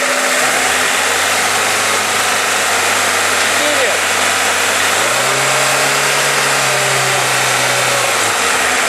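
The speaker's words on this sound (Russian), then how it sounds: "Сделай 2000 оборотов, сделай." A VAZ-2103 car engine, checked for oil pressure, idles steadily and then rises to a higher held rev partway through, loud and close over heavy broadband noise.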